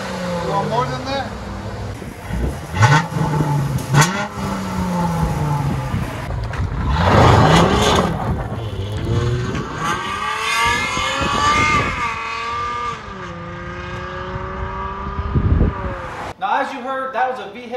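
V6 Dodge Challenger or Charger with mid resonators cut out, engine revved repeatedly in rising and falling exhaust surges, loud and close, with people talking between and over the revs.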